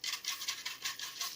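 An old hard-bristled toothbrush scrubs a painted container in quick, rhythmic back-and-forth strokes, a close, steady bristly scratching with no voices.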